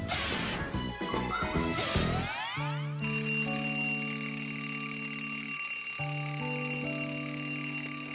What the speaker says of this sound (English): Thomas, why is your alarm clock ringing in the middle of the night